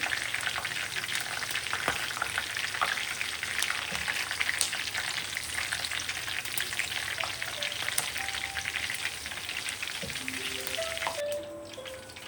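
Chicken 65 frying with green chillies and curry leaves in hot oil, giving a steady, dense sizzle with occasional crackles and spoon scrapes throughout; no voices.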